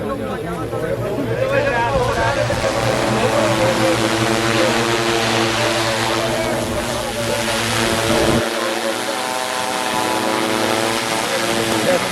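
An agricultural spraying drone flies over a sugarcane field with a loud, steady whirring propeller whine. The low part of the drone sound drops away near the end, and people talk in the background.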